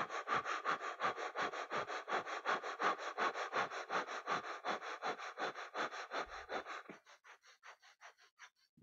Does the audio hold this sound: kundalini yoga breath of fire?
yes